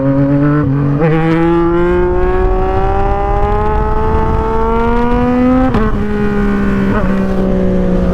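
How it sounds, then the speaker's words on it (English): A Yamaha MT-09 or MT-07 engine revs up loudly and steadily for a power wheelie, pitch climbing over several seconds with short blips and a dip as the throttle changes, heard close. "Let's do a wheelie. Get it up in RPM and then just..."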